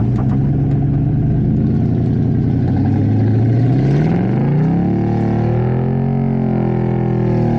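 A beefy pickup truck on big off-road tires revs its engine on soft, muddy ground, a loud, steady mid-pitched drone that rises and swells around the middle and then holds at a higher, working pitch.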